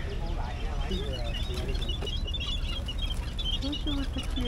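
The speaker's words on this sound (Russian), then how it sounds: "Ой, а тут птички." Birds offered for sale at the Thean Hou temple in Kuala Lumpur chirp and cluck repeatedly in a busy, noisy setting.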